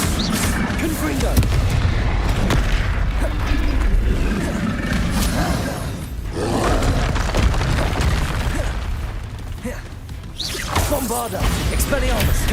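Confringo fire-blast spell in Hogwarts Legacy, booming impacts and crackling bursts mixed with mechanical clatter and game effects, loud and dense over about twelve seconds, with a voice speaking over parts of it.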